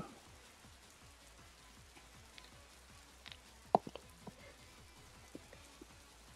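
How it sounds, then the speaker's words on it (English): Rain in the Roblox Bloxburg video game, a steady soft patter of drops falling on surfaces, quiet and even throughout with a few slightly sharper taps. "I hate when it rains and it's dark."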